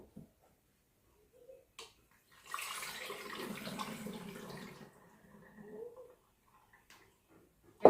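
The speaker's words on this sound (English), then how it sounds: "I'm just going to divide it as equally as I can between my two flip-top bottles." Water kefir poured into two flip-top bottles during a second ferment, heard as one steady liquid pour of about two seconds, then a quieter, shorter trickle, set amid near silence.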